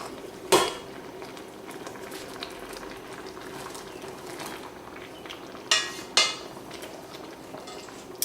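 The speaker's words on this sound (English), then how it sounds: "I want to go ahead and add my potatoes in here. Carefully so that they don't make a mess." Potatoes going into a simmering pot for hot German potato salad, with a few sharp clanks from the pot and utensil over a faint bubbling hiss, and no voices.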